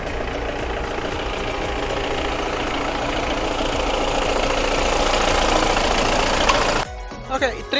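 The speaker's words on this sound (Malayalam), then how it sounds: "ഡോണർ കാർ സ്റ്റാർട്ട് ചെയ്ത് ഒരു 2 മിനിറ്റ് എൻജിൻ റൺ ചെയ്ത് വെക്കുക." A donor car's engine runs at idle, a steady loud mechanical drone that cuts off abruptly near the end, leaving brief quieter clatter.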